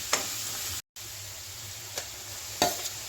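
Chopped onion sizzles steadily in a pan for a Malvani prawn curry, a low continuous hiss broken by a few soft stirring scrapes and one brief dropout.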